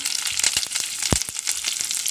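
Garlic, shallots, ginger, green chili and curry leaves fry in hot oil in a pan for a fish curry, giving a dense, even sizzle broken by a series of sharp pops and crackles. Close, with no speech.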